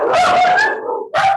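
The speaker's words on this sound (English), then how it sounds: "My dogs thought they should participate." Dogs barking indoors during an online meeting: a loud, close yelping bark, a short pause, then a second sharp bark.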